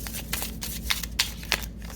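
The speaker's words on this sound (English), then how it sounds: "I like to shuffle on camera so that you guys can see the legitimacy of it" Tarot cards are shuffled close by, a soft riffling and flicking with a few sharper slaps over two seconds.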